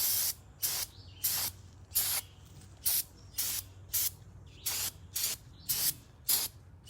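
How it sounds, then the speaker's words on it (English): Short bursts of aerosol spray hiss onto an AR-15 rifle to strip off oils, about a dozen separate puffs in an uneven rhythm, close and fairly loud over a faint low hum. "the first thing we want to do is spray this down,"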